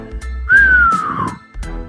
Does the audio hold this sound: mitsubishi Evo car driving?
no